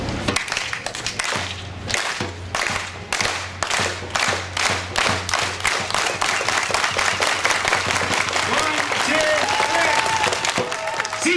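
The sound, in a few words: crowd unity clap, starting slow and speeding up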